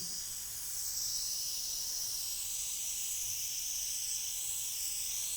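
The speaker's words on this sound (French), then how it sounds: "Grâce à ce brumisateur, Emilia réhydrate le visage de Vanessa." A facial mist sprayer giving a continuous soft hiss as it mists a woman's face at a spa, steady and close with no pauses or talking.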